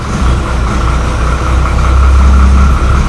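A 1963 Ford Falcon engine idling with the choke on, a steady, low rumble, close by and continuous, with no voices.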